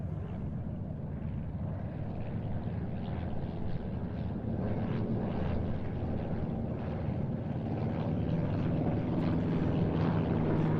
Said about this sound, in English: the Cessna 170B coming across in formation with the Piper PA-18 150 Super Cub and the Alon Air Coupe